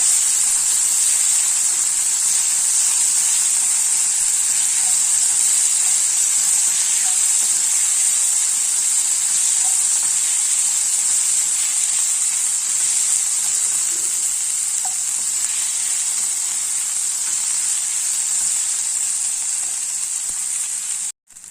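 Ripe tomatoes sautéing in a pan for paneer pepper masala, giving a steady, loud, close sizzle and hiss that runs unbroken to the end, with no one talking.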